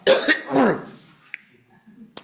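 A couple of harsh, close coughs and a throat clear in quick succession, followed by quiet with a faint click.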